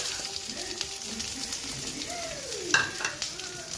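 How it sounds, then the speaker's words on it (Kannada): Green chilies and onion fry in hot oil with a continuous close sizzle, broken by scattered light scrapes and one sharper metallic scrape of a utensil against the pan. "ನಾವು ಚೆನ್ನಾಗಿ ಫ್ರೈ ಮಾಡ್ಕೋಬೇಕು."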